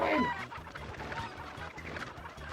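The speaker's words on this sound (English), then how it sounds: "The chickens! They're escaping!" Chickens cluck and squawk in the Breath of Fire 3 video game, a busy flurry of fowl calls repeating over a steady game soundtrack throughout.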